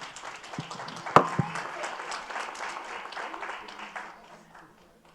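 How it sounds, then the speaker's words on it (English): An audience at a school district superintendent's honor roll ceremony applauds steadily, a dense wash of clapping with one sharp nearby clap, slowly fading out. "Big round of applause for Kim."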